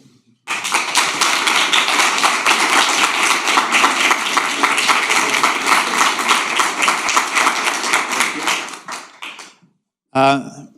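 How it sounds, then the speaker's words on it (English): A round of applause for Michele Parrinello at the ESI Medal Award Ceremony 2025: a dense, steady crowd clapping that runs about nine seconds before dying away, followed by a brief voice. "it's time for the first round of applause for Michele"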